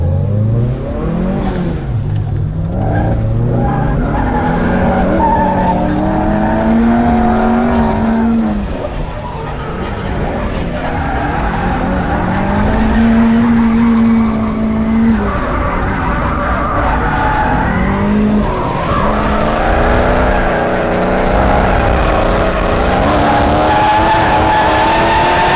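A drift car slides and skids around a corner, heard from a chase car following close behind, with loud continuous engine revving and tire noise throughout, rising and falling as it powers through the turn.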